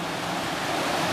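Water rushes steadily at Sliding Rock waterfall, a loud, continuous broadband roar with no voices.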